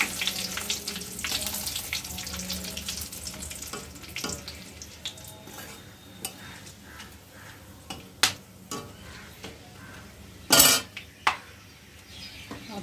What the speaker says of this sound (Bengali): মরিচ দিচ্ছি ফোড়নে